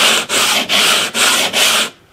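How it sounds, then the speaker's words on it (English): Sanding block rubbed over a guitar fretboard being radiused, in four steady back-and-forth strokes with brief pauses between them, close and loud with no talking. "now it's just a question of a bit of sanding. A lot of sanding."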